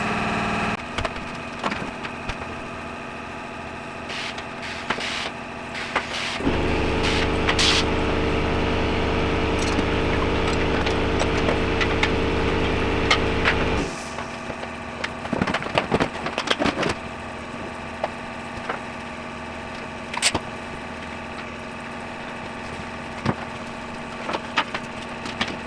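The fuel transfer pump on a Duramax dual-tank setup with a leak hums steadily and loudly for several seconds in the middle, with scattered clicks and handling noises before and after.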